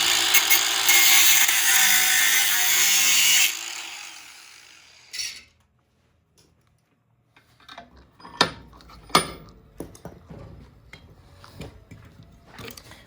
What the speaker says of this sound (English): everyone ignore the fact I'm using my angle grinder in the wrong direction